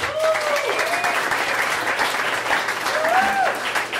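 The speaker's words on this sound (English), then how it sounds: "please give them a round of applause" A bar audience at a Nerd Nite talk in Ann Arbor breaks into steady, dense applause that fills the room, with a few brief whistles rising above the clapping.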